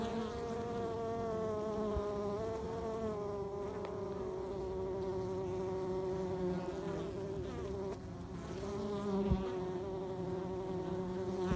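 Worker bees buzz steadily around a hive as they bring in pollen, a dense close drone of many wings holding level throughout with slight swells.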